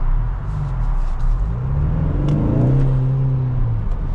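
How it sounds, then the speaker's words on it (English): A 2026 Ford Mustang EcoBoost pulling away in track mode, with the engine rumbling and rising steadily in pitch as it accelerates, heard close from inside the car with no talking. "Put it in drive, and we're gonna be going into our sportiest setting, which is track."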